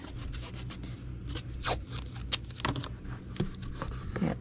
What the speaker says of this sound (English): We will ship it in a Gemini mailer. So we'll tape it down.